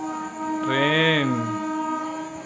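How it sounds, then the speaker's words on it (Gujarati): A passing train sounds its horn in one short, loud blast of about a second over a steady background rumble, with no talking. "ટ્રેન"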